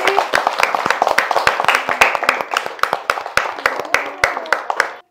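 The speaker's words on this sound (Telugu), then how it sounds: "క్లాప్స్ కొట్టండి" Clapping by a group at a Mother's Day celebration in an orphanage, just before a cake is cut; many sharp, uneven claps come steadily for about five seconds, close and fairly loud.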